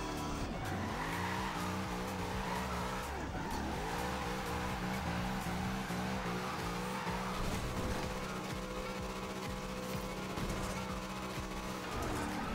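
Cars in the Forza video game revving, accelerating and skidding, with sustained engine drone and swooping tire squeals, loud and continuous throughout.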